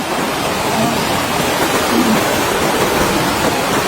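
A wide river near the Lisap Bridge in Bongabong, Oriental Mindoro, rushes in a steady, loud broadband roar, constant and unbroken, with no voices over it.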